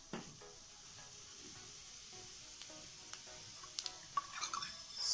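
Cumin seeds crackle in hot oil in a kadhai for pav bhaji, a faint, quiet sizzle with sparse pops and ticks that grow busier and louder toward the end.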